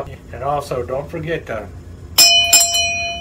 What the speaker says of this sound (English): ring that notification bell